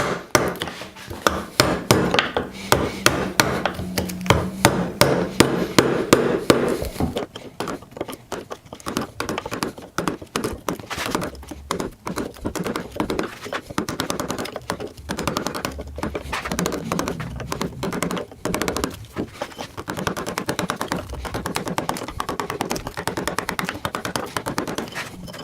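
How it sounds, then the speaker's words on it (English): A mallet drives a chisel into wood during a treadle lathe frame build, producing a rapid series of sharp, close taps and knocks that continue steadily with brief pauses. "Just sort of chisel away at it a little bit"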